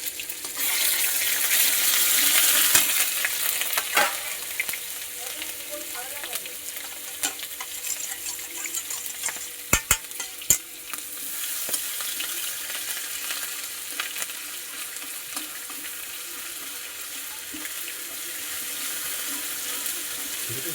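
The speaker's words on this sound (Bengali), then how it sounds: "দেখুন রসুনটা আমি কিন্তু একটু ভাজা ভাজা করে নিয়েছি" Garlic paste and three slit green chillies fry in a pan with fenugreek for a rui fish curry, giving a steady close sizzle with stirring scrapes and a couple of sharp clicks midway.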